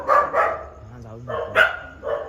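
Dogs bark a few times at close range in a building stairwell, sharp repeated barks mixed with people talking over them.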